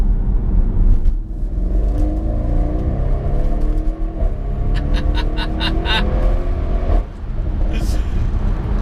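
Audi RS6 Performance engine running steadily and loud, a continuous low rumble with a brief dip in the middle, heard from inside the car.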